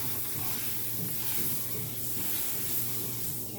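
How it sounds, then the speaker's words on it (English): Butter heating in a hot skillet for chicken quesadillas gives a steady, even hiss that runs without a break, with a low hum underneath and no talking. "I'm gonna butter the skillet."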